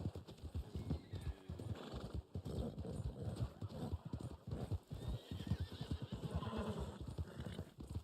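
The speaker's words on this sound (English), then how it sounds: "What did I hit? Oh," A horse in Red Dead Online whinnies while its hooves clip-clop in a quick repeated rhythm, loud and close throughout.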